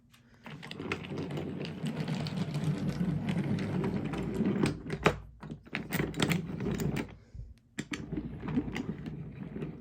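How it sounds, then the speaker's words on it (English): A wooden toy train rolls along its wooden track with a drawbridge, giving a steady rattling clatter that runs for several seconds, breaks off briefly, then starts again, close by and fairly quiet. "After lifting the drawbridge again, the train set off."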